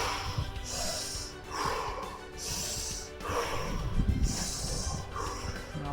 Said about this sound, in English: So we are starting to breathe now,